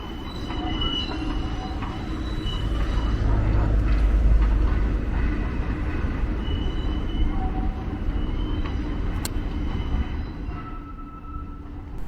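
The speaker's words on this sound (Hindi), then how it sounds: "ये ट्रेन इस रेल कम रोड ब्रिज को पार करके ऊना ज़िला में पहुँच जाती है" A passenger train rumbles across a rail-cum-road bridge over the Sutlej river toward Una district, a loud continuous roar of wheels and wagons with occasional metallic squeals, swelling in the middle and easing slightly toward the end.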